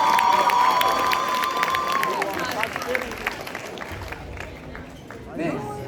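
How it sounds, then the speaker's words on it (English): High school event crowd gives a round of applause mixed with cheering and chatter, loud at first then thinning into scattered claps and crowd noise. "Please give them a round of applause"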